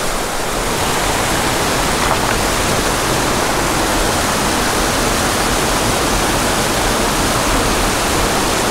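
Water rushes steadily through the pockets of a small mountain creek with golden trout, a loud, constant broadband flow like a nearby cascade, with no voices over it.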